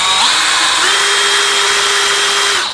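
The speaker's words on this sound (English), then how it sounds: "it is so nice on a drill. Just it saves a lot of mixing." An electric drill fitted with a paint mixer attachment whirs steadily while stirring a can of paint, a close, continuous whine that ramps up and runs for a few seconds before cutting off.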